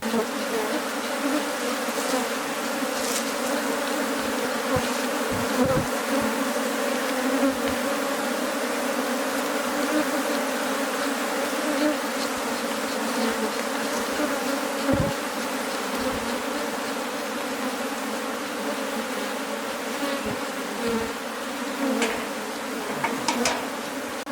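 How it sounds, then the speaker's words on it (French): Honeybees buzz steadily around their hives in the village of Lukimba, a dense, continuous hum that stays close and even throughout, with a few brief ticks and knocks over it and no one talking. "Comme vous pouvez constater dans ces riches, les abeilles sont tellement dociles."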